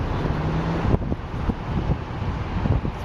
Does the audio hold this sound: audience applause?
no